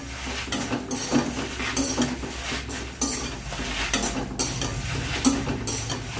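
Rice is dry-roasted in a pan and stirred steadily, with repeated scraping and light metallic clinks of a spoon against the pan over a faint sizzle.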